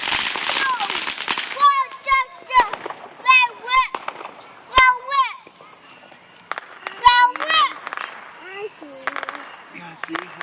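Fireworks on the Fourth of July pop and crack in scattered bursts across the stretch, some sharp and close, mixed with a child's and adults' chatter throughout.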